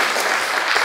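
A short, steady burst of clapping from an audience at a talk, dense and continuous for under a second with no voices standing out.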